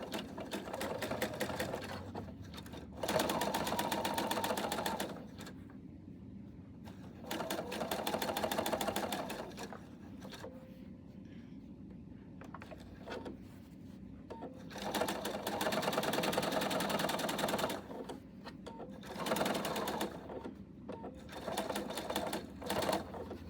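A sewing machine stitches in several bursts of rapid, rattling mechanical runs separated by pauses, close by and moderately loud, with a person talking quietly in the gaps.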